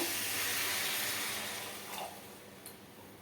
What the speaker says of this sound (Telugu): ఇవి కొంచెం వేగిపోయాక ఒక గ్లాస్తో వాటర్ని వేసుకుంటున్నాను